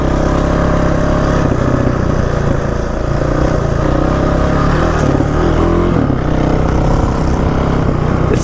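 A Suzuki DR-Z motorcycle rides off-road along a trail, its engine droning loud and close with continuous throttle changes and rough, unsteady revving throughout.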